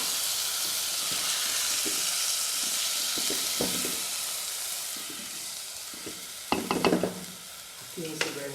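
Cashews frying in a pan for pongal make a soft, steady sizzle with occasional stirring scrapes, growing busier toward the end as clattering utensil sounds join in.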